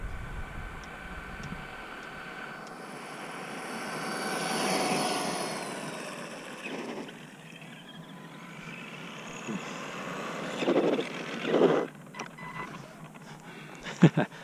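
An ARRMA Granite Boost RC car at full throttle produces a loud, sustained electric-motor whine that swells and fades as the car speeds away and returns, ending in a few sharp knocks.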